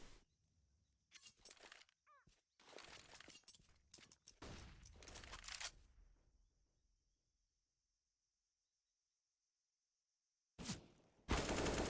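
Gunfire in the video game CS:GO, including an AWP rifle, comes as several sharp bursts separated by gaps, loud and close, with silence before a final blast.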